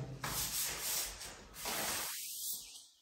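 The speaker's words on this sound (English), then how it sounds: "So now with the sandpaper we remove all the imperfection." Sandpaper rubbed by hand across a fireplace surface during a budget renovation, a steady close scraping hiss in repeated strokes that breaks off briefly and then fades to quiet near the end.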